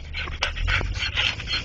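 A dog pants in quick, steady breaths at close range, with small snuffs and movement around it, held in someone's lap inside a moving car.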